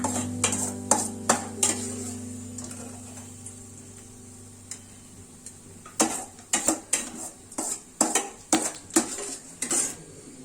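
Cooked food with raisins being scooped from a pan into a bowl, with a series of sharp metallic clinks and scrapes of a spoon against cookware, sparse at first, then a quick cluster of knocks, over a faint background hiss.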